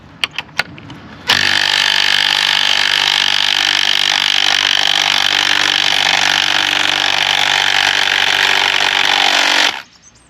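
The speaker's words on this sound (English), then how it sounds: "the best way to put these bolts in as well is to use an impact driver" An impact driver drives bolts into a concrete repair spur for a 4x4 timber post, its loud continuous whirring hammering starting after a few small knocks and running about eight seconds before stopping abruptly.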